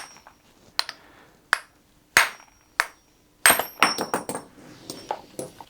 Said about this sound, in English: I would just do this with a hammer,